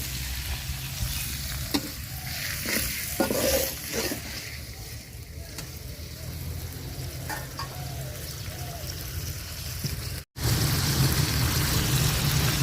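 Garlic paste frying in a pan after a splash of water is added for a thin fish curry, giving a steady close sizzle with spoon stirring scrapes throughout and a brief cut near the end.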